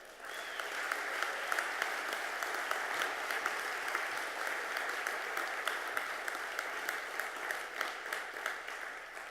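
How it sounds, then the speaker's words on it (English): Audience applauding at the Project Delivery Summit 2016 awards ceremony, sustained dense clapping throughout with crisp individual claps cutting through, fairly loud and even with no talk. "let's give a big round of applause"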